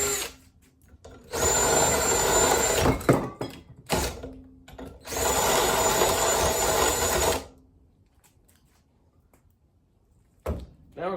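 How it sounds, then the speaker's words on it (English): A power tool deburrs the edge of a metal piece for an engine oil pan, two sustained loud grinding runs with short bursts and clunks in between, close up, followed by quiet. "Deburr that edge just a little bit."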